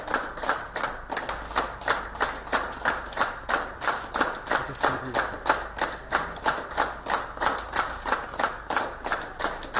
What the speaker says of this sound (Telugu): అందరూ చప్పట్లు కొడుతూ సంఘీభావం ప్రకటించారు.